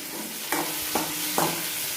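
A spoon stirs chutney in a hot pan, making three distinct scraping strokes over a soft background sizzle.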